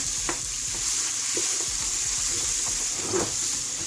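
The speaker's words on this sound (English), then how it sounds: "we're going to go ahead and add our onions and our celery, and mix that around" Onions and celery stirred into browned Italian sausage in a pot: a continuous crackling sizzle with close, irregular scraping stir strokes throughout, no voices.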